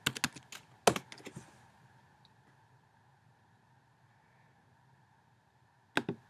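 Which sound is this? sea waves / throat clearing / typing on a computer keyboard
typing on a computer keyboard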